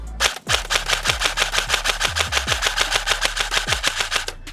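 Rapid automatic bursts from an E&C retro-style airsoft gun, a fast steady rattle of shots with brief pauses between strings, loud and close with no talking.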